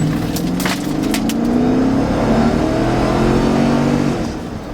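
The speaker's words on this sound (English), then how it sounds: "we're gonna go ahead and do another rip so you can see what the acceleration's like" A cheap Cadillac Escalade SUV bought secondhand revs hard under acceleration, its engine note climbing steadily in pitch and loudness close to the microphone before easing off at the end.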